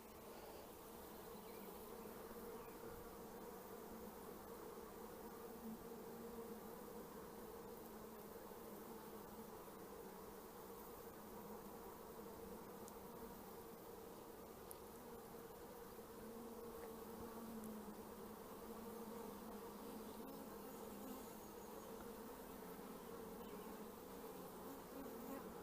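A honeybee swarm settling into a new hive with its queen, workers fanning pheromone: a dense, continuous drone of buzzing wings, steady and fairly faint, with no talk over it.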